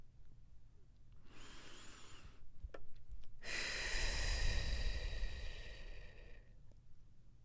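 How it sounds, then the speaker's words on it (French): A person breathes in deeply, then lets out a long, airy exhale close to the microphone. The sound is soft and hissing, with quiet room noise around it. "dès que je ferme les yeux, je prends une respiration"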